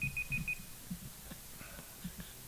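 A short run of four quick, evenly spaced high-pitched electronic beeps sounds at the start, faint against a low background hum, followed by quieter scattered clicks.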